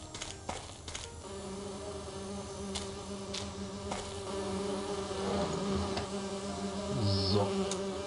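Bees buzzing around beehives in the video game Agatha Christie - And Then There Were None, a continuous droning hum close by with a few clicks and game ambience underneath.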